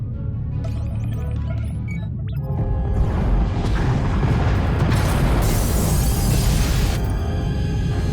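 In SWTOR, escape pod bays blow apart in a heavy explosion. Quieter mechanical sounds come first, then a loud boom rolls into a sustained roar with crashing debris that fades toward the end.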